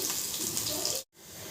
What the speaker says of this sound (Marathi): आता 1 कप पाणी टाकून घेऊया